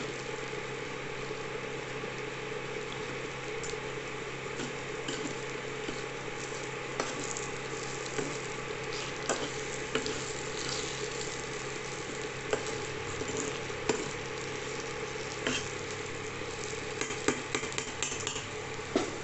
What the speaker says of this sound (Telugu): జాగ్రత్త, ముక్క ఊడిపోకుండా కలుపుతూ ఉండండి